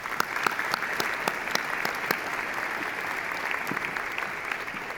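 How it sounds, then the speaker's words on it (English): Audience at a university convocation ceremony breaks into a big round of applause, a dense, sustained patter of many hands with a few sharper claps standing out, steady and fairly loud throughout with no talking. "Let's give him a big round of applause."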